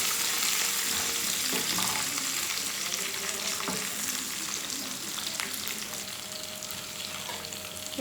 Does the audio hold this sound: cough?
no